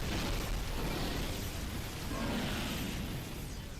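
A power bomb explodes in Metroid: Samus Returns as a dense, sustained roaring wash of noise that stays loud and steady throughout, with no talking.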